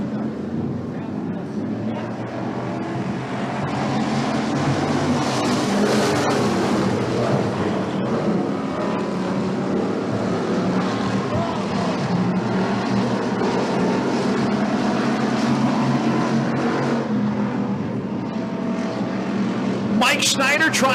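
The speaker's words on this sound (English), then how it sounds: "Mike Schneider trying to stretch it early on Ryan Olson in the 1." WISSOTA race cars roar around the dirt oval at Eagle Valley Speedway in a steady, loud engine drone that holds throughout, with a race announcer talking over it.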